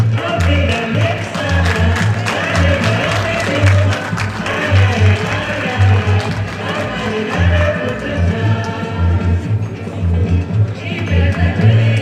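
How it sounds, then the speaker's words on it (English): An audience applauds at an outdoor National Day celebration, with sustained, crowded clapping that keeps a steady level over a low background hum, and no clear talk on top. "Give her a big round of applause, ladies and gentlemen."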